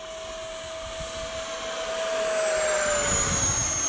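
An E-flite Viper 70mm electric ducted-fan model jet with a 12-blade fan on 6S power flies past, a steady loud whine that climbs slightly in loudness, with a high tone that drifts lower as it passes.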